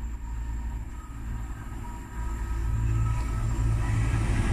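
A train rumbles past at Heald Green station with a steady low roar and rail noise that grows louder partway through, with no voices.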